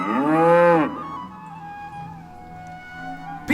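A cow gives one loud, close, drawn-out moo during a devotional drama about decorated cattle, followed by a quieter sustained tone with no speech.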